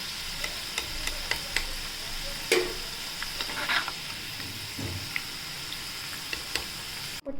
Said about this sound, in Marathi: बटाटे छान सोनेरी रंगाला तळून झाले आहेत